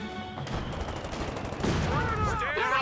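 Machine-gun fire from a squad in Company of Heroes 2 battle, rapid dense bursts sustained throughout at close range, with a radio-style voice and chirping effects layered over it.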